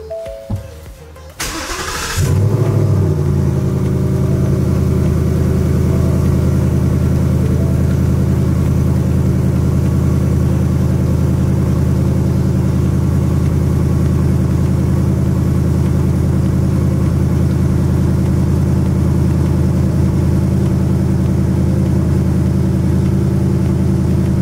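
A 2018 Ford Mustang GT V8 cranks and fires after an oil change, then settles into a loud, steady, deep idle rumble that carries on unbroken, with no voices.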